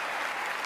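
A crowd claps for a Ghanaian rapper, a brief, steady burst of many hands applauding with no voices over it.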